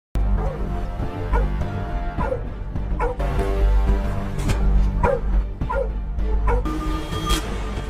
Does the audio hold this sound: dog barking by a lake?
yes